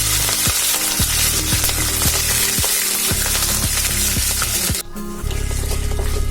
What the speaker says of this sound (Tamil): கருவேப்பிலை கொத்தமல்லி அதையும் போட்டு நல்லா அப்படியே வறுத்துட்டு